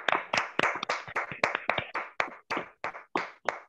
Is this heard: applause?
yes